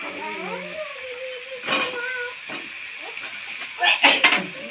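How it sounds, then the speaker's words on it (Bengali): Fried potatoes are stirred into spiced oil in a pan for a pangash and tengra fish curry. A faint sizzle runs under a soft tonal background, broken by two louder bursts of spatula scraping and clatter. "আলুটা ভালো করে কষিয়ে নেব। সব কিছু মশলা থেকে পুরো তেল ছেড়ে গেছে।"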